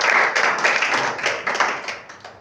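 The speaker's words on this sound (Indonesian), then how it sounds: "tepuk tangan dong buat Tuhan Yesus" Church congregation clapping for Jesus during a sermon, a dense, steady burst of many hands close by that carries on without pause, with a faint voice barely present beneath it.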